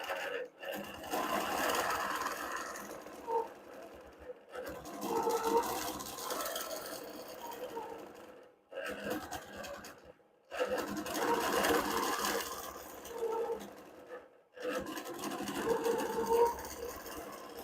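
A longarm quilting machine stitching feather patterns on a quilt, a fast steady mechanical whirring in several runs of a few seconds each, broken by short silent pauses, close and fairly loud.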